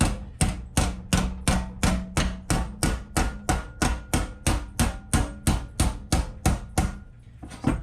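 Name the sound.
hammer beating sheet metal to fold it in a vise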